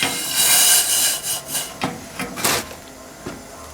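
A loud hissing sizzle of a hot steel spoon quenched in water, surging strongly at first then breaking into several shorter bursts and crackles.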